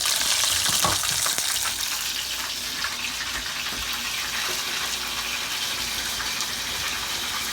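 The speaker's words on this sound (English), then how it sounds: "When the grease is just right, they will start to burn brown almost immediately, which is what you want." Battered food fries in hot grease with a continuous bright sizzle and crackle, close and steady, a few louder pops near the start.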